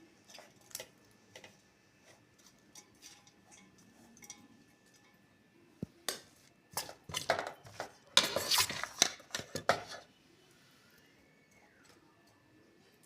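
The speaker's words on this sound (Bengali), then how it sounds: "একটু নেড়ে চেড়ে দেবেন যাতে সব জায়গায় সমানভাবে থাকে।" A ladle stirs vegetarian fried rice in a pan, making faint, sparse clinks that build into a quick cluster of scraping, clattering strokes before fading back to quiet.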